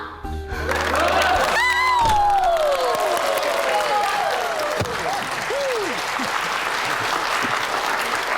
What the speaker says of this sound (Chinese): 难得呀，带了大家这么久的课，第一次有掌声